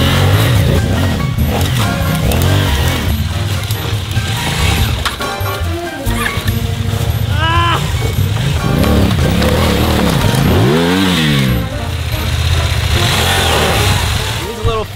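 Street bike engine revving hard during a motorcycle burnout outdoors, loud and continuous with rising and falling pitch sweeps across the whole stretch, over wind and possible voices.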